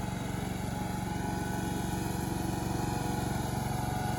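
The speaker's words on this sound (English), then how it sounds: "I love watching those machines mow the grass." A greens mower cutting golf course greens in circles, its steady engine droning with an even pulsing hum that stays constant and fairly close throughout, with no voices.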